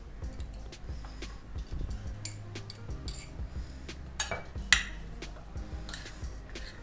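A spoon clinks and scrapes against a bowl while boiled potatoes with lemon juice and chana chaat ingredients are mixed, giving quiet, irregular metallic taps and chinks at close range.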